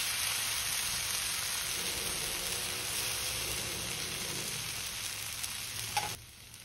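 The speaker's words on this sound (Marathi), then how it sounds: "आता 2 ते 3 मिनिटं मंद आचेवरती या बाजूने आपल्याला भाजून घ्यायचंय।" Ragi (finger millet) dosa batter sizzles on a hot griddle over low heat, a steady close frying hiss that runs evenly for about six seconds before cutting off abruptly, with no voices.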